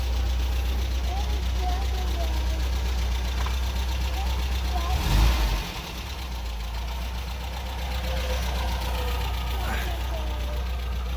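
A 1974.5 MGB's engine idles steadily outside the car at moderate distance, a low continuous rumble with one brief bump midway, while people talk faintly nearby.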